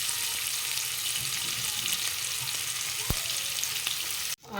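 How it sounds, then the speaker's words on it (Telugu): Onions fry in a pan until golden for an egg pulao, a steady, dense sizzle held close and constant, with a faint stir or tap partway through and a brief drop at the end. "ఆనియన్స్ బాగా ఫ్రై చేసుకుందాం. బాగా గోల్డెన్ కలర్లోకి వచ్చేదాకా ఫ్రై చేసుకుందాం ఆనియన్స్ని."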